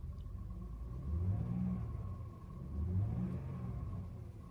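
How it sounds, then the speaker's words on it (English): Supercharged 3.0-litre V6 of a 2016 Jaguar XJL revved twice while stationary, two rising-and-falling swells over a steady low idle rumble, fairly quiet and with no talking. "I'm going to rev it up a little bit."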